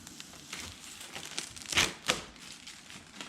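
Plastic backing film is peeled off 3M adhesive tape while fitting Tacoma bumper caps, a faint crinkling and tearing rustle with a couple of sharper crackles midway, close and quiet.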